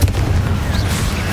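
Confringo explosive spell from Hogwarts Legacy: a heavy booming blast with deep rumble, followed by a brief whooshing streak, loud and close within a second.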